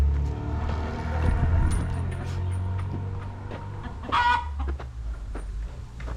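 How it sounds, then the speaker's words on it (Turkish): A hen clucks repeatedly in short bursts while laying an egg, over a low, steady background rumble in a village, with one louder squawk partway through. "tavuk doğuyor şu an"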